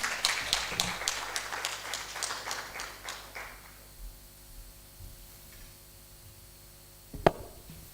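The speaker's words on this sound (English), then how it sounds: "A hand of applause for our panel." Audience applause for a panel at a report launch event, a burst of many hands clapping that fades over about four seconds into quiet room tone, ending with a single loud knock.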